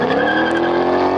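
Ford Mustang GT500 engine giving a brief, loud, sustained growl with steady pitch, heard alone.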